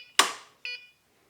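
A LiBCM battery module emits two short electronic beeps, the first sharper and louder, the second softer, then silence.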